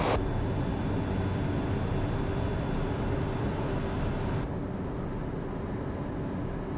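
A steady broadband roar fills a Citation M2 jet cabin during the climb after takeoff, loud and even, with a slight drop in the high hiss partway through as the gear retracts; no one speaks.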